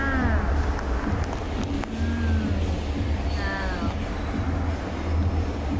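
Go-kart racing around a corner on a track near Bangkok, with a loud continuous engine drone and rising whines as karts pass, plus brief tire squeals, under occasional excited talk.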